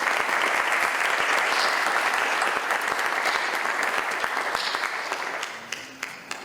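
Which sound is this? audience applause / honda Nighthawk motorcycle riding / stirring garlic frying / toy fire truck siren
audience applause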